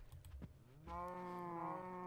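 A cow in the video game Minecraft gives a sustained, tonal bleating moo that starts partway through and holds steady to the end, preceded by faint clicking.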